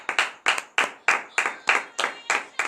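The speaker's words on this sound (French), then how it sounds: "donne de vive acclamation à ce Christ ressuscité" About nine sharp, evenly spaced claps from a small group at a morning prayer, acclaiming the risen Christ, crisp and close in a steady rhythm.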